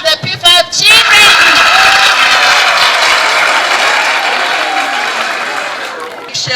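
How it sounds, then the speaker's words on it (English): A crowd of children claps and cheers at a school assembly, bursts of shouting giving way to loud, sustained applause that fades gradually toward the end. "Clap the P5 children."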